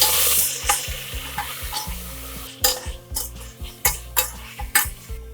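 Ground masala sautéed with onions and tomatoes in a pan for veg brinji rice, a low oily sizzle underneath repeated sharp scrapes and clinks of a spoon stirring against the metal pan.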